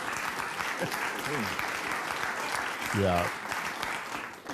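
An audience applauds in a live talk-show setting after a stretch of booing, a broad, steady wash of clapping under overlapping talk that swells briefly near the end.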